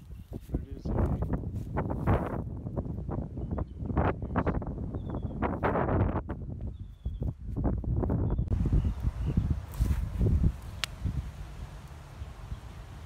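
Wind gusts across the microphone at Historic Lincoln Cemetery, rumbling and buffeting in uneven surges, while a person talks over it.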